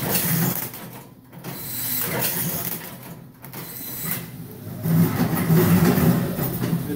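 A Dynaric D2300 automatic strapping machine runs as a package is strapped, with a loud, continuous mechanical whir and rattle and short gaps as the cycle repeats.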